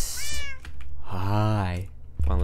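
A cat meows three times close by, a short high call, then a long drawn-out meow, then a third cut short, with a person speaking between them.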